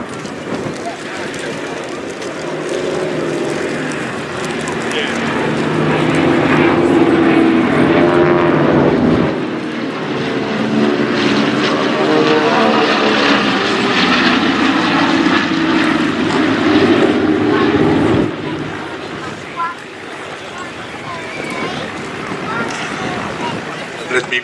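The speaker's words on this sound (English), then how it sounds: "it's one Douglas DC-3." A Douglas DC-3 piston propeller airliner drones steadily close by at an air display, its loud engine roar swelling and holding with a shifting pitch across the whole stretch, under a voice talking throughout.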